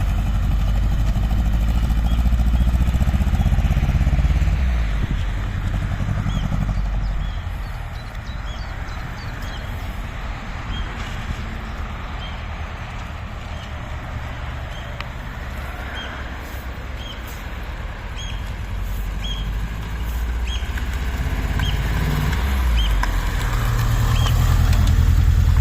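A Proton car fitted with a 4G93 engine runs steadily just after its first start-up, untuned, a continuous low engine rumble that swells slightly at the start and end.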